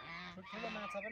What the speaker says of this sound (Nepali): यो हाँस होइन त